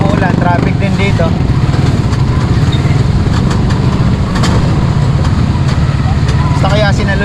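Busy traffic on a rainy market road in Arayat, with engines and motorcycles rumbling steadily and close throughout, while people talk over the noise.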